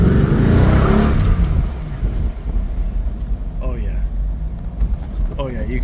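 A 1991 Chevy Corvette ZR-1 with low factory gearing pulls hard, its engine roaring loud and close at first, then fading into road rumble and wind.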